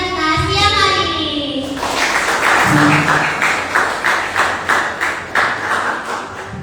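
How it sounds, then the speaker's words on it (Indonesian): A seminar audience breaks into loud applause after a brief stretch of talk, with many hands clapping in a steady, pulsing rhythm that slowly thins out. "beri kita tepuk tangan yang paling meriah untuk pembicara kita siang hari ini"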